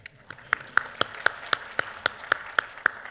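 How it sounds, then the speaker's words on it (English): A single person or a few people clap in a slow, steady rhythm, about a dozen sharp, evenly spaced claps at a tech conference session. "Give yourselves a round of applause for making it in the room."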